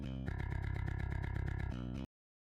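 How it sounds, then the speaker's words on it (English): A heavily distorted bass guitar on a distortion channel, a Submission DjinnBass in a metal mix, chugs out a steady, buzzing riff for about two seconds, then cuts off into silence. "It's a distortion channel. It's just the same DI again."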